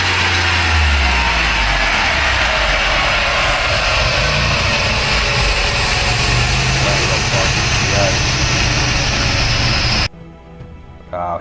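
VY Commodore V6 turbo running on E85 idling after a fresh tune, steady loud rumbling idle close by with a slight lope, cutting off abruptly near the end.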